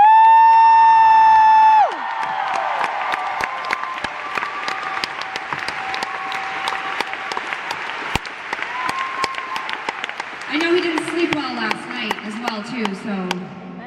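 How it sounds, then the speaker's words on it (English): Concert audience at Rockefeller Chapel applauding and cheering at a show: dense, loud clapping with scattered whoops runs throughout, after a sustained musical chord fades out at the start. "would you please now give that thunderous round of applause to Mr."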